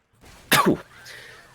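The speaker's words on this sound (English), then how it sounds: "Coughed a bit there." A commentator covering a Left 4 Dead 2 Dark Carnival tournament match gives a single sharp, close cough, with faint background sound before and after.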